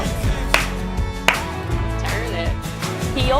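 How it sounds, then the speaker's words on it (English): A hand clap marks a step in a line dance, two sharp claps standing out briefly over loud country music. "Step clap."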